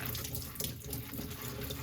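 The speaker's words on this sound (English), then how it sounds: "wash it under the cold tap water" Cold tap water runs steadily over blanched spinach in a kitchen sink, a continuous close splashing flow with no talking.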